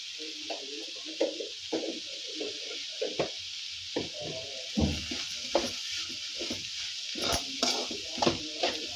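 Vegetable momo filling with salt frying in a pan crackles with a continuous sizzle, broken by repeated knocks and scrapes of a spatula stirring against the pan, close and fairly quiet.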